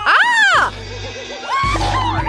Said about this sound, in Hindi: ये कैसी चीख है?